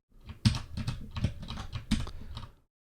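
Quick bursts of keystrokes on a computer keyboard while code is cut and pasted, a dense rattling run of clicks lasting about two and a half seconds, close and clear with no talking.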